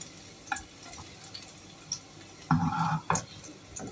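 Vegetables for mung bean stew are sautéed in a pan, with a quiet sizzle, scattered spatula taps and a brief louder burst of frying and scraping near the end.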